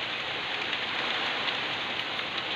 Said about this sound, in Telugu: వర్షం అయితే అదిగోండి ఫ్రెండ్స్, చాలా అంటే చాలా బీభత్సంగా కురుస్తుంది.